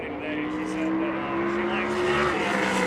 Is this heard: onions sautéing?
no